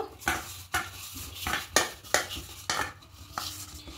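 Dough being worked by hand with a little white oil, giving repeated soft slapping and pressing sounds about every half second, close and moderately loud, with faint handling noise between strokes.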